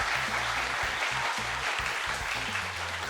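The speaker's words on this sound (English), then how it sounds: "Let's give a big round of applause again." A crowd at a talk on cultural diversity in Cambodia claps steadily for about three seconds, an even broadband patter under low background hum.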